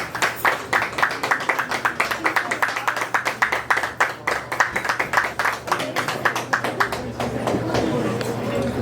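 Audience applause at an outdoor Juneteenth community event, a dense, steady run of many hands clapping near and loud, with crowd noise and a low hum underneath; the clapping thins slightly toward the end.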